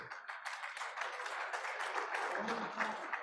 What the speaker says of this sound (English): can always count on Brian Adams for applause